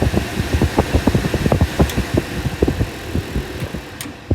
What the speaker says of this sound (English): And the compressor engages, you can hear it.